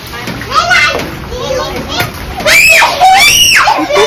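Children shriek and shout while splashing in rainwater flooded on a home terrace after heavy rain, with loud excited cries rising over watery splashes close by.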